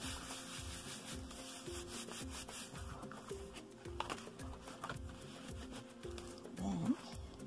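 Paper being rubbed down onto a handmade tree of life pop-up card, a soft steady scraping with short strokes close by and no one talking.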